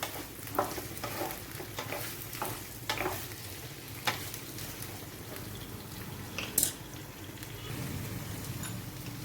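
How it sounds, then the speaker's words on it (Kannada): Mango, carrot and green chillies fry in oil for a mixed vegetable pickle, giving a steady sizzle broken by spoon-stirring scrapes and clicks, close and moderately loud, with no speech. "ಮಾವಿನಕಾಯಿ ಕ್ಯಾರೆಟು ಮೆಣಸಿನ್ಕಾಯಿ ಎಲ್ಲ ಸಾಫ್ಟ್ ಆಗೋವರೆಗೂ ಎಣ್ಣೆಲೇನೆ ಫ್ರೈ ಮಾಡಬೇಕು"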